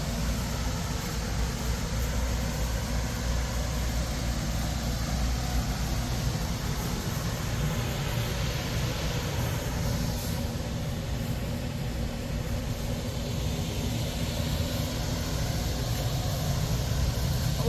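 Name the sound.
loud air conditioning unit overhead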